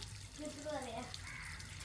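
A tap runs water in a steady, close wash of noise while voices talk over it.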